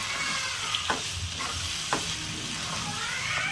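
Taro paste with turmeric, salt and sugar bubbling in a pan while being stirred, a steady close sizzle and hiss with a few scraping strokes of the spoon, no talking.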